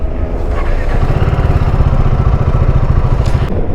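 A vehicle's engine drones steadily and loudly on a highway near Damascus, with a constant low rumble and clatter that never lets up.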